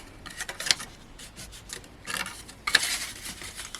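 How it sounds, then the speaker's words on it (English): A burnishing tool rubs along the scored fold lines of a paper gatefold card in short, close scraping strokes, two bursts of rasping friction with a brief pause between them. "just bring in my burnishing tool, just going over all of those little"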